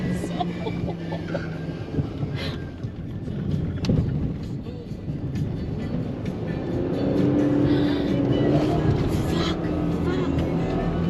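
Cars lining up in a desert dune racing convoy in Qatar at night, a low continuous engine rumble with wind buffeting that grows louder toward the end, while people talk nearby.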